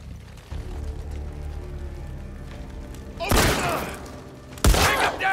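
Two loud, booming gunshots ring out in the video game The Last of Us Part II, spaced more than a second apart, each with a broad blast and lingering tail over a low rumbling background.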